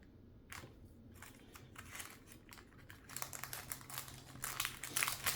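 Ribbon being cut in half with scissors for a Dollar Tree Christmas gift: soft, crinkly snips and rustles repeat through the stretch and grow louder and busier toward the end, close by with no talking.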